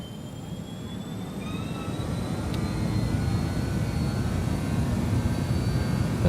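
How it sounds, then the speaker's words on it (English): An airliner's jet engines spooling up for takeoff in Microsoft Flight Simulator 2020, heading from Osijek, Croatia; a loud, steady broadband roar swells gradually, with faint rising whines threading through it and no talk. "So, guys, we are ready for takeoff."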